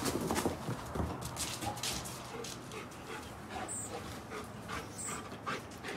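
A Rottweiler pants and snuffles close by during play with a squeaky dental chew toy, a steady breathy rasp with a few louder bursts at the start and faint higher squeaks or chirps.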